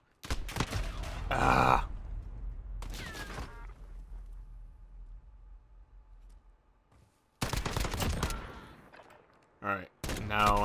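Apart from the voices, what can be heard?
single-fire gunfire in the video game Modern Warfare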